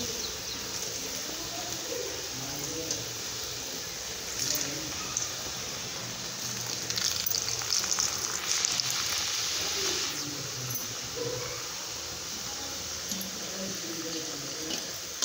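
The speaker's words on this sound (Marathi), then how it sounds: "मस्तपैकी गोल्डन कलर होईपर्यंत तळून घेऊ" Sweet modak dumplings deep-fry in hot oil with a constant, fine bubbling sizzle that stays fairly even and moderately loud from start to finish.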